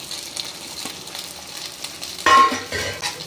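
Boiled, peeled taro root pieces fry in oil in a pan, with a light sizzle and clattering stirs from a metal spoon, including a louder scraping burst near the end, and no voices.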